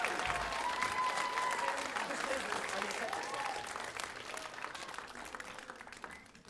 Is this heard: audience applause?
yes